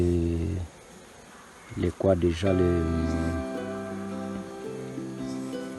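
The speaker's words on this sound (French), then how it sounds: "là-dedans, il y a les abeilles qui sont en train de travailler" A steady, droning hum of many honeybees buzzing close by in a hive, with a brief louder flurry partway through.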